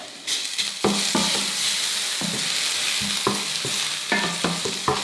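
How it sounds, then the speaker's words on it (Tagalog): Crushed garlic, pounded in a mortar, sautéing in hot cooking oil in a pan for dinuguan, a steady close sizzle with repeated scraping stirs through the frying. "habang ginigisa yung bawang"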